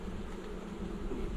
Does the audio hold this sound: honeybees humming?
yes